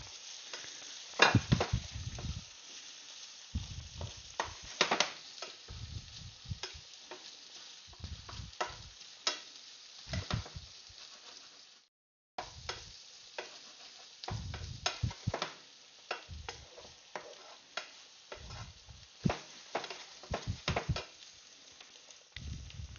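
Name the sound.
onions frying in a pan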